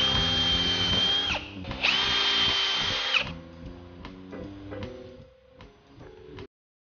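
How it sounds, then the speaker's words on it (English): A power drill pre-drills holes and drives screws to fix rubber feet onto an end-grain wooden cutting board made from scrap wood, with two sustained high-pitched whirring runs followed by several short clicking bursts, close and loud, with no talking. "Then I pre-drilled some holes and screwed on the rubber feet."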